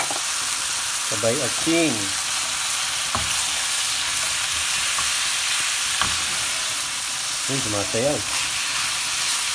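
Pork seasoned with salt and pepper sautéing in a hot pan, a steady loud sizzling hiss that runs the whole time while a person briefly talks over it twice.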